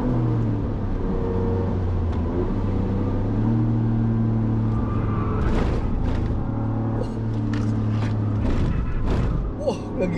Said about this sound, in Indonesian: Ya, jadi ban lebar ini lebih berisik ya.